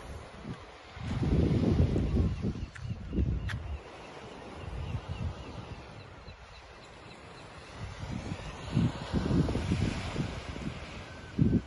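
Surf washing ashore and wind buffeting the microphone at Felixstowe beach on the English coast at sunrise, a steady broadband roar with rising and falling wave surges and gusty low rumble, no talking.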